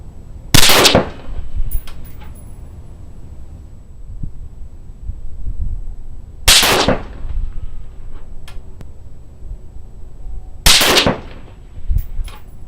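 Three loud, sharp rifle shots ring out several seconds apart from a rifle topped with a Primary Arms Gen3 1-8x ACSS scope, each crack followed by a brief echo, with faint handling noise between.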